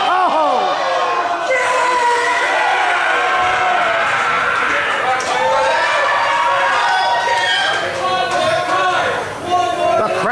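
Crowd cheering at an independent wrestling event, the Holiday Hangover show, a loud sustained roar of shouts, whoops and chatter from fans, with excited voices rising and falling throughout.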